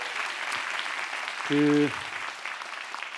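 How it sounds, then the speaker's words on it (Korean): An audience at a Korean dance performance applauds the nine musicians, with steady hall-wide clapping and a brief spoken word heard over it. "박수 한번 부탁드리겠습니다."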